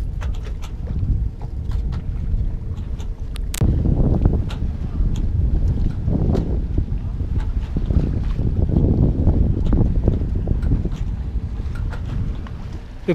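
A sailboat's engine drones steadily nearby as it passes under motor power, with wind buffeting the microphone throughout; no one speaks.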